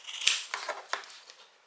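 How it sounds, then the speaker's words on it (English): Scissors snip close up through several layers of bulky fabric seam allowances, giving a quick series of about five crisp cuts on a quiet background. "I'm going to go ahead and cut that bulk out"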